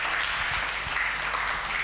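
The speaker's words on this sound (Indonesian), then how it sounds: "Boleh tepuk tangan dong," An audience at a university campus event applauds: dense, steady clapping from many hands fills the hall at an even level throughout.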